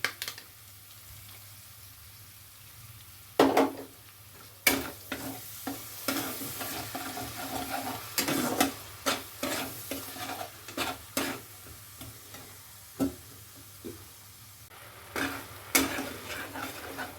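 Whisked sour yogurt being stirred into a well-cooked masala that is frying in oil, a soft sizzle under repeated scraping and clacking of a spoon against the pan, with no voices.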